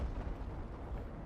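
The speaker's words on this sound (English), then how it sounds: "that explosion is being ray traced again in the whole environment, how you would expect" Rumbling, low-heavy blast of a V1 rocket exploding in the video game Battlefield V, a continuous loud boom that fills the short moment without any talk.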